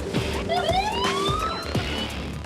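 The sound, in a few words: warning siren of logistics robot in BYD factory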